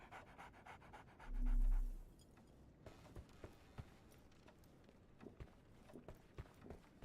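A dog pants rapidly and steadily in the Sherlock Holmes The Awakened video game, with a rhythmic huffing close by, a brief low thud early on and faint footstep-like taps.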